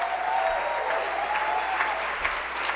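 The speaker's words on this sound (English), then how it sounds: "Give me a really big round of applause for that." A large breakfast gathering for a Martin Luther King keynote keeps up a dense, even round of applause, many hands clapping steadily at a moderate distance, with faint vocal sounds in the crowd.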